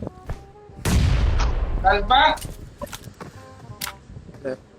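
Booming bomb explosions in PUBG, a dense burst of blasts followed by several sharper hits, with brief synthetic tones and effects between them.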